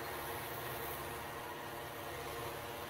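Diesel engine of a Belarus 520 farm tractor running steadily at idle, a continuous low rumble with broadband mechanical noise and no pauses, close by.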